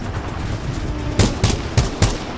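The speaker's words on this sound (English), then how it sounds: "He's shooting his little ion shots up here." Ion shots fire in a shooter video game, four heavy, evenly spaced blasts over a dense, noisy background of game sound.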